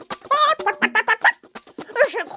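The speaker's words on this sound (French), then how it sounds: "une poule qui cherchait à manger remarqua le biscuit" A hen clucks in a quick series of close, rhythmic clucks with short squawky tones, heard alone in a children's storybook setting.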